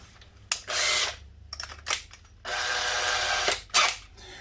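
Power drill fitted with a brand new 10mm bit cutting a hole on a Monkey bike, in several loud whirring bursts of differing length with short pauses and clicks between them, close up.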